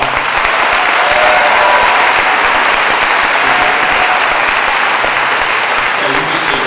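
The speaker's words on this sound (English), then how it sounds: "let's give these folks a round of applause" Loud, dense applause from the audience at a high school senior awards ceremony, a continuous roar of many hands clapping close by with faint voices mixed in.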